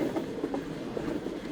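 The Bahauddin Zakariya Express, running Multan to Rohri, rolls along the rail line with a steady rumbling roar and soft rhythmic wheel clatter, loud and continuous, with no voices.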